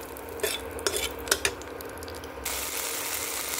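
Green chillies fry in a pan in a Bengali home kitchen, a soft steady sizzle under several distinct metal spatula clicks and scrapes against the pan, close by, with no talking.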